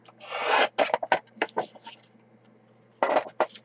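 Paper being cut for card making, with a few close scraping, rasping strokes in short bursts separated by brief pauses.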